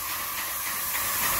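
Peelable spray booth coating sprayed onto air supply controls for venturis, a steady close hiss of spray running without a break and no talking.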